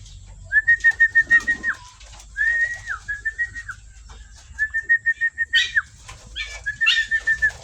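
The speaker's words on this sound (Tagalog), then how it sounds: "Kaya yung mga kalapate natin sanay na sanay yan sa pagkain." Pet pigeons feeding on rice, with loud, close wing flaps and soft coos coming in bursts, and a whistle-like tone in between. No one speaks.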